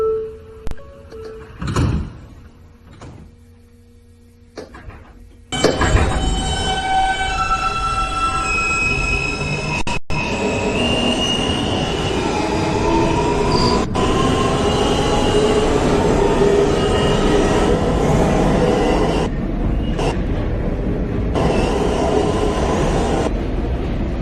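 A Manhattan-bound New York City M subway train running between stations, loud continuous rumble and rattle with squealing wheels, starting after a few quieter seconds near the doors and carrying on steadily to the end.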